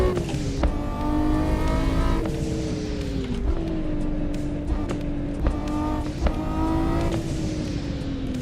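A car engine in the racing game Assetto Corsa revs up and down steadily, with repeated gear shifts and rising and falling pitch throughout. The sound is loud and continuous.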